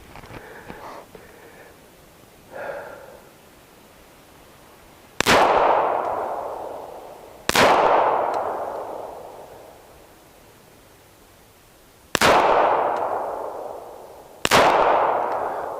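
A Glock 42 pistol in .380 ACP fires five loud, close single shots spaced a few seconds apart, each followed by a short ringing decay outdoors at a range. Faint handling noise comes before the shots.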